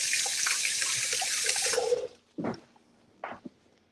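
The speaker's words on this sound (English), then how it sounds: "Wash my hands." Hands washed under a running kitchen tap, a steady stream of water for about two seconds, then it stops and two short splashy bursts follow.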